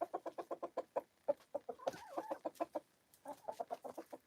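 Hens cluck in a quick run of short, rhythmic calls on a cold morning in Maine. The clucks pause now and then and are broken by a brief warbling call, all fairly close and with no talking.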